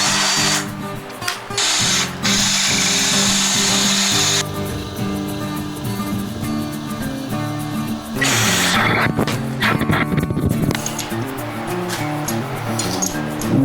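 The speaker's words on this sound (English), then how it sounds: "then we'll drill it out to the 1/2 inch" A power drill whines loudly and continuously, its pitch shifting as it bites through material, enlarging a pilot hole to 1/2 inch in shock brackets for a 1948 GMC pickup truck, with brief pauses and grinding surges.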